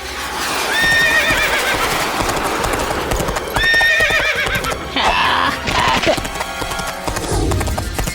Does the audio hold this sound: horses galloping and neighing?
yes